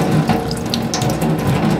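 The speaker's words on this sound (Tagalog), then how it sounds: "tumatalbog yung tubig" Water pours steadily onto a waterproof PVC photo card, a continuous splashing, bubbling rush heard close and loud throughout, with no voices.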